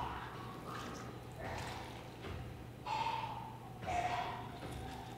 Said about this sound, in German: Ich glaube, er ist krank. Er hustet viel.